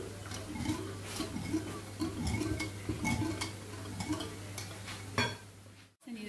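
A wooden spoon steadily stirs a caramelizing sugar mixture in a pan, producing a continuous close scraping swish with soft knocks against the pan over a low steady hum.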